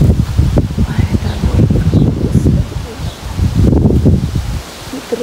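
Strong wind gusts through the leaves of a garden on a hot late-May day, a loud, surging rustle that swells and eases, with faint bird calls behind.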